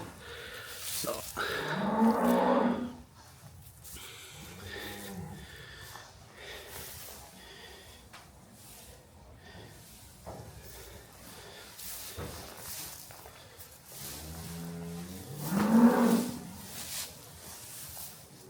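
A cow in a farm shed moos loudly twice near her newborn calf, long low calls separated by quieter stretches of snorting and shuffling.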